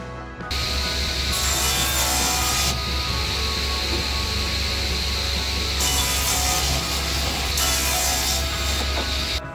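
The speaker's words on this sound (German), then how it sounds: "Ja, die Bögen sind jetzt gesägt." A power saw cuts arches from beech heartwood with a loud, continuous whine and rasp throughout. The pitch rises into brighter, harsher stretches twice as the blade bites.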